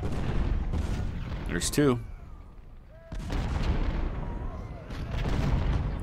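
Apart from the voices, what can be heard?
artillery guns firing on infantry in Ultimate General video game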